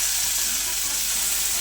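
Loud continuous sizzling, chopped tomato hitting hot oil in a pan of frying onions, a dense unbroken hiss through the whole short moment.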